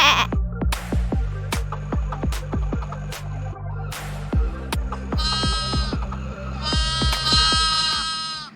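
Sheep bleat loudly and repeatedly, several wavering calls in quick succession, each strong and close with ringing harmonics, with no voices.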